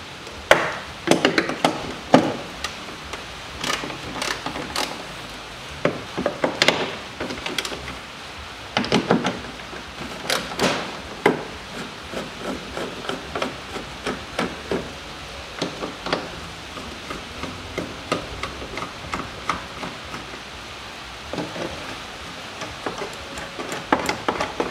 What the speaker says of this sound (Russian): Откручиваю два болта, то есть две гайки,